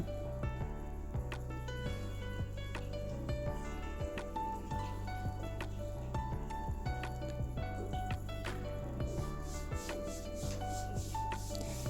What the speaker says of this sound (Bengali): আর একটা পরোটা আমি বেলে দেখিয়ে দিচ্ছি।